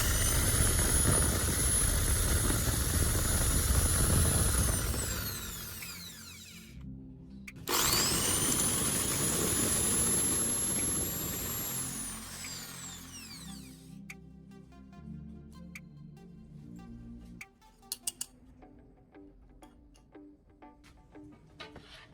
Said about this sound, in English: I'm marking and drilling holes into the flattened spoon.